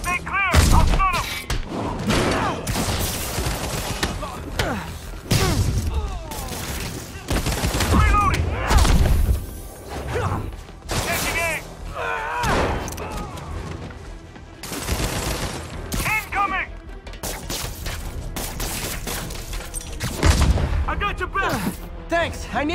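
Marvel's Spider-Man combat in which enemies fire guns: repeated loud bursts, thuds and booms come in waves, mixed with shouted voices and action effects.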